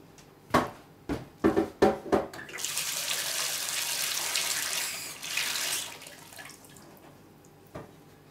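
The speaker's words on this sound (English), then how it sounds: "And fill it up with water." Several sharp knocks and clatters of a container being set up, then a steady stream of tap water filling a container of soaked wholewheat and vinegar in a kitchen for about three seconds, followed by a few faint drips and a final knock.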